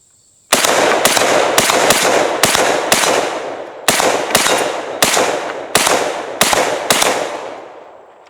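A rifle sold as a Call of Duty Black Ops M14 clone fires about thirteen loud, sharp shots in an uneven steady rhythm until empty, each crack ringing out close, with the last echo fading away.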